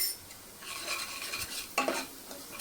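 A spoon stirs Malvani masala, kitchen king masala and turmeric into a ground paste sizzling in a pan, giving a steady scraping and soft frying hiss with a brief louder clink of the spoon near the end.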